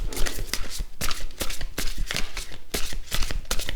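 Oracle cards being shuffled by hand, a quick, papery riffling and slapping in a steady rhythm, close and clear with no talking.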